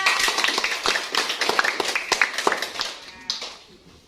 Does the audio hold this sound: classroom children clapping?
yes